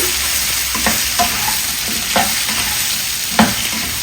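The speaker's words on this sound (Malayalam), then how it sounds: "ഇതിങ്ങനെ നന്നായി ഇളക്കി വെളിച്ചെണ്ണ ഇതിൻ്റെ എല്ലാ ഭാഗത്തേക്കും ഒന്നാക്കി മൂടി വയ്ക്കാണ്" Potatoes being stirred in coconut oil in a pan, with steady sizzling and several distinct scraping stir strokes close by, no talking.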